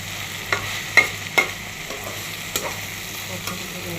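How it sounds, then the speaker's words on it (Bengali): Ripe red Malabar spinach seeds fry in a pan with a continuous close sizzle, marked by a few sharp stirring scrapes and clicks of the spatula. "পুঁই শাকের বিচি লাল পাকনা বিচিগুলা ভাজি করেছি"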